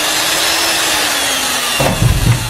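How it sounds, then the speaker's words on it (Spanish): A steady, loud chainsaw grinding through material, its whine continuous throughout, growing rougher and heavier near the end. "Una sierra eléctrica."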